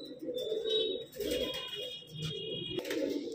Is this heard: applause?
no